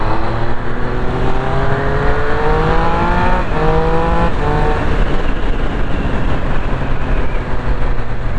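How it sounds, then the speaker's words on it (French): A 2025 Triumph Speed Triple motorcycle, around 200 kg and ridden in second gear, accelerates hard, its loud exhaust note climbing steadily in pitch with a brief step partway through, then holding a strong drone. "ça commence à causer fort en plus à l'échappement"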